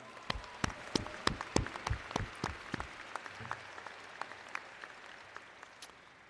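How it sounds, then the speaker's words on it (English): Commencement crowd at Daytona State College claps in a scattered burst of distinct, sharp claps that thin out and fade steadily, ending in sparse, faint handclaps. "let's give yourself another round of applause"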